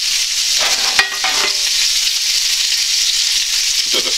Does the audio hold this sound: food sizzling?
yes